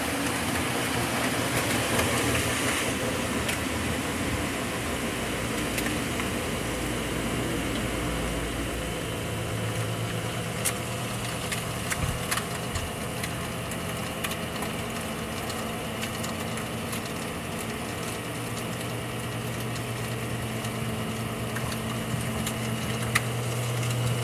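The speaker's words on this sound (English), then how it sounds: "we'll go ahead and pull our stopper and run the disposal" A kitchen sink garbage disposal runs with a steady, moderately quiet motor hum and faint rattle and vibration, continuing without a break and heard alone.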